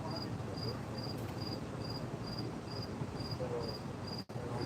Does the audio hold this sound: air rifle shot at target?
no